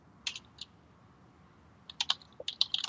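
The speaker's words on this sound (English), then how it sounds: "I thought you were typing" Computer keyboard typing sounds close and quiet: a few isolated key taps, a pause, then a quicker burst of clicking keystrokes.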